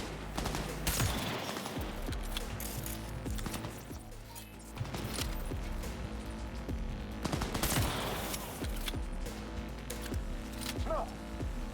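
Gunfire crackles through a Cyberpunk 2077 fight, with repeated sharp sniper rifle shots amid a busy, continuous mix of other weapons firing, fairly quiet overall with faint voices in the background.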